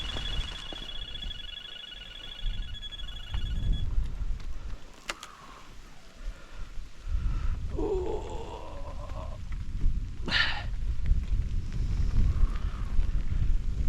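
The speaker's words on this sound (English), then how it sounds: "the rain's really coming down now" Heavy rain pours outdoors at a riverbank barbel-fishing spot, a steady broadband hiss with wind buffeting the microphone throughout, plus a few brief knocks and scrapes.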